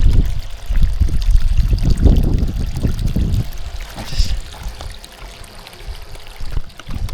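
Water gushes steadily from a newly sunk bore in northern Australia, a continuous close trickling pour that is louder and splashier in the first few seconds before settling into an even flow, with no voices.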